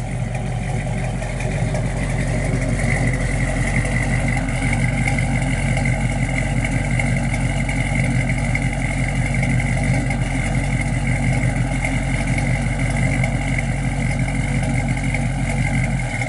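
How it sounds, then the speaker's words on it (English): A 1970 Plymouth Barracuda's 383 V8 engine idles loud and close with a deep, steady rumble and throaty exhaust pulse through dual exhausts that holds evenly throughout. "Good sounding car."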